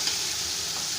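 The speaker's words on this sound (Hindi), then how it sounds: "आप देख रहे हैं व्यूवर्स के मसाला हमारा अच्छे से भुन के तैयार हो रहा है" Spice masala with red chilli and coriander roasting in a pot for Bannu beef pulao. A soft, steady sizzle runs throughout, brief and fairly quiet, with no voices.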